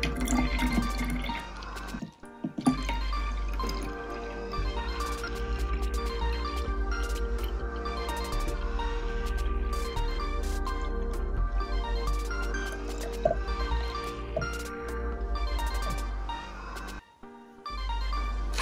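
Rosemary water pours steadily into a container, a continuous trickling and filling sound with a low hum underneath, running for many seconds with brief pauses.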